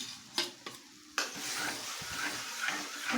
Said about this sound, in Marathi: सर्व व्यवस्थित मिक्स करून घ्यायचं आहे